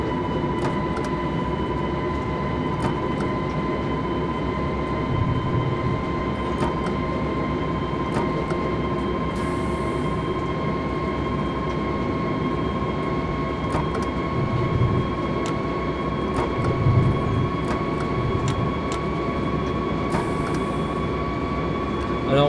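A NightJet train made by 3DZug runs in Train Simulator 2020, heard from inside as a steady rolling rumble with a constant hum and faint, regular clicks from the track, alone with no talk.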